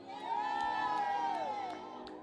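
A church congregation cheers and whoops together, a dense sustained roar of many voices rising early and holding steady before easing off slightly at the end.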